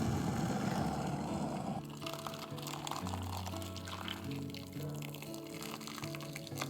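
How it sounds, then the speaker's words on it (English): Boiling water is poured over dry lasagna sheets in a container, with a quiet splashing pour at first that gives way to softer trickling and liquid movement. "Place them in a container and pour boiling water over them."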